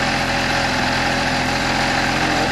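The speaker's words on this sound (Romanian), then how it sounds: "Motorul se accelerează singur." A car engine runs by itself at a steady, loud, continuous idle, holding an even drone with no clear revving swells and no voices.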